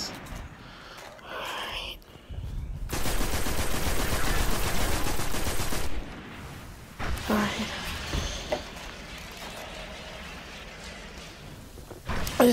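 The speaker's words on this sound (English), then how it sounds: "It's bullets." Rapid automatic gunfire from the video game Destiny rattles in one sustained burst of about three seconds, followed by scattered shots and game sound effects.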